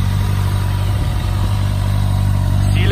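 Kawasaki ZX6R cafe racer motorcycle engine with a new MIG exhaust tail and black headers, running loud and steady near the listener, with a slight rise in revs toward the end.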